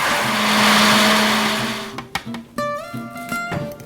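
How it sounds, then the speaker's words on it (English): A blender crushing breadcrumbs whirs loudly in a steady, grinding roar for about two seconds, then cuts off, leaving rattling clicks and clatter. "So I'm going to break up the breadcrumbs in the blender."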